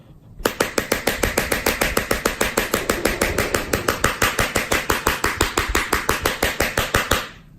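A very sharp knife scrapes across the display of a Redmi Note 7 phone, rapid regular strokes repeating for about seven seconds, close and crisp with no talking.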